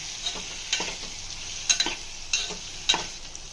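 Coriander and curry leaves stirred and frying in hot oil, a soft steady sizzle broken by a few sharp spoon scrapes against the pan, close and alone.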